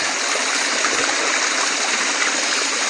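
Cold stream water flows in a steady, full rushing wash that stays close and loud throughout, with no voices over it.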